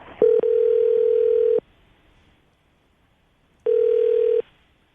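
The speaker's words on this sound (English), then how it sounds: "we're going to call her right now and see if we can get her on the phone" A telephone ringback tone sounds twice during an outgoing call, each a steady electronic buzz of about a second, separated by a longer silence, clear and alone.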